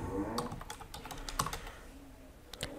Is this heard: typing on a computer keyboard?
yes